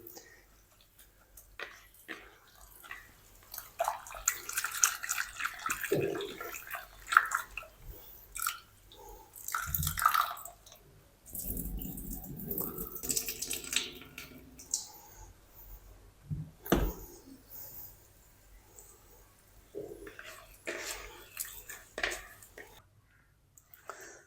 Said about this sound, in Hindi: 2-3 पानी से अच्छी तरह मैं वॉश कर लूँ